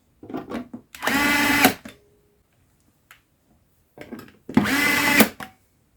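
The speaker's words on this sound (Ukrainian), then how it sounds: "Складаємо їх та прикручуємо." A power screwdriver drives screws into a steel enclosure for electronics, two loud whirring bursts of about a second each, each preceded by short stuttering starts, with quiet gaps between.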